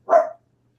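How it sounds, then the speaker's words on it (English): A single short, sharp bark from a puppy, near and loud, then silence. "there go the puppies"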